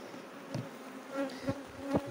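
Honeybees buzzing at an open mother hive, a dense close humming drone that rises briefly as single bees pass near, heard on their own without speech.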